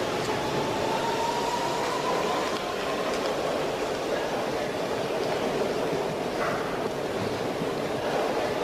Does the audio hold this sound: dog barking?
no